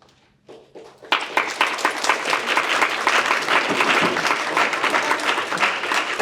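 Applause breaks out at a Lehigh County commissioner meeting, starting with a few scattered claps and swelling into steady, dense clapping from a seated audience that holds loud to the end.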